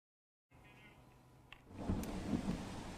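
Heavy monsoon rain roars steadily in Porbandar after a short silence, swelling louder, with low rumbles of thunder mixed in.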